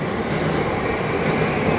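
A JR Yamanote line train runs past a trackside viewing spot in Tokyo, a steady, loud rumbling roar of wheels and motors filling the short stretch without pause.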